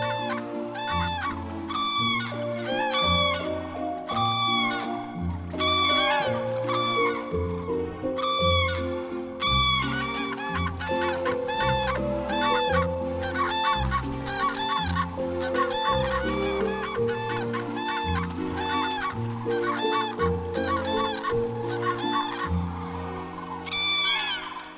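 A courting pair of waterbirds on a German lake call loudly and continuously, a dense stream of honking, squealing cries that overlap throughout with no talk.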